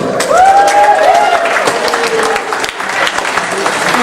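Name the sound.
audience applause at a high school pageant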